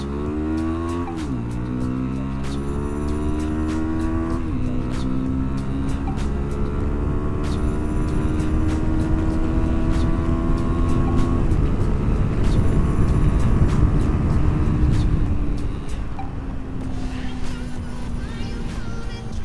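A CFMOTO 300 SR motorcycle with a 300 cc engine revs and accelerates up and down close by, its rising harmonic whine climbing, dropping and climbing again, then easing off near the end, with gear shifts and wind noise along the way.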